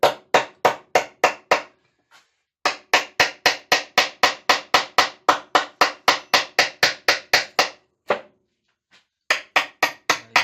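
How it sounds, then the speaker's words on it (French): Steady hand hammering, sharp regular blows in quick runs of strikes separated by short pauses, close and loud with no talking. "logiquement, on utilise un marteau et on y va"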